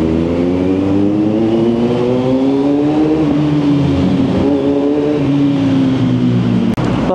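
A 2022 Kawasaki Z900 motorcycle with an aftermarket exhaust and the silencer removed revs up loud and close. Its engine pitch climbs, dips and rises again in a harsh, sustained roar, and a sharp knock sounds near the end.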